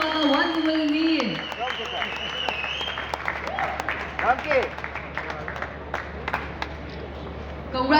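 An audience applauds at a song launch event, steady clapping from a crowd that begins as a voice finishes speaking and carries on evenly for several seconds with a few sharper claps standing out.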